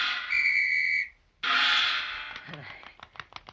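A seal character in a radio drama blows a whistle: two loud, sustained shrill blasts separated by a short gap, followed by a quick series of short chirps and vocal sounds.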